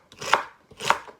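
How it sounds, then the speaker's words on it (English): Two crisp knife chops on a cutting board, spaced about half a second apart, close and fairly loud with no talking. "let's go ahead and get all these vegetables chopped up"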